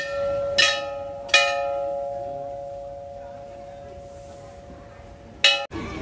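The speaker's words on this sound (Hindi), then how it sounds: "लो घंटी बजावा।" A temple bell at the Chulkana Dham shrine of Khatu Shyam is struck three times, each loud metallic clang ringing out and slowly decaying, with a low murmur of the surroundings beneath.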